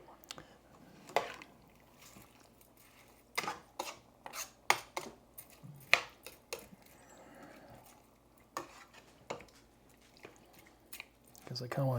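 Jambalaya rice is stirred through its cooking liquid in intermittent wet, squishy scrapes and clinks, quiet and spaced out, under occasional talk.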